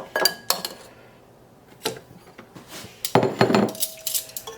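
Pre-roasted, seasoned soup bones dropped one by one into a metal soup pot, giving several close, hard clinks and knocks spread irregularly with brief quiet gaps, a denser cluster of clattering impacts near the end.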